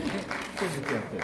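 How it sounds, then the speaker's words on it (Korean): Clapping from an audience at a book concert. Brief, moderate hand-claps blend into the room while voices carry over them throughout. "그걸 위해서 또 박수 한번 쳐주시죠"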